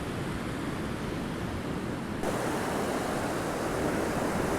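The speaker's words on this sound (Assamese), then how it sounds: "সুন্দৰ ঢৌ খেলি থকা সাগৰ।" Surf washes onto the empty beach at Dhani Nallah in North Andaman as a continuous broadband roar, loud and unbroken, growing slightly fuller midway, with wind blowing across it and nobody talking.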